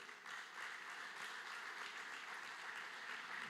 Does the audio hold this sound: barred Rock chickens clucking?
no